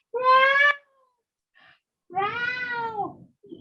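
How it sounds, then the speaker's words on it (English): A sweet-voiced male house cat meows twice, first a short clear call, then after a pause a longer, drawn-out meow, both close and alone in a quiet room with a faint extra chirp at the end. "He's got a very sweet voice. He's a very sweet cat, actually."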